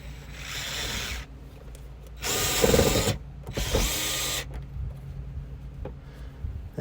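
A screwdriver or small power driver turns screws back into the trunk holes of a 2011–2015 Chevy Cruze, giving several short whirring and scraping bursts close by against faint background noise.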